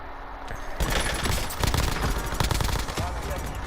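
Rapid pistol gunfire in a first-person shooter video game, a dense burst of loud sharp cracks repeating in quick succession over a few seconds, close and prominent.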